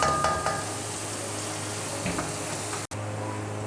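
Onions with whole spices fry in a pan, giving a continuous sizzle with a low steady hum underneath, a couple of faint stirring taps, and a momentary dropout near the end.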